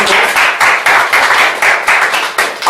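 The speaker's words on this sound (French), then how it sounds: "Est-ce qu'on va applaudir aussi pour cette réponse?" Audience at a religious talk clapping loudly in a fast, steady rhythm, a close group of hands beating together in even pulses with no talk over it.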